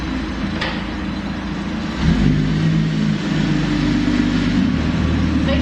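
Holden VE Commodore with a J-pipe exhaust revving in an undercover car park, a loud, deep engine note that rises sharply after a rumbling idle and holds high with echoing drone.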